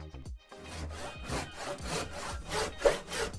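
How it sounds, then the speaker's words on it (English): Hand saw cutting through wood in steady back-and-forth strokes, a rhythmic rasping close up and clear, with no talking. "We use the saw to cut wood."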